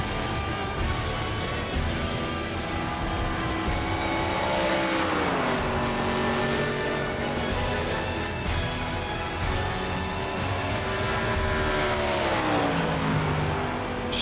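NASCAR Cup cars race on the Chicago street course in the iRacing game, engines revving and dropping in pitch as they shift gears, a steady loud roar with occasional pass-by swells.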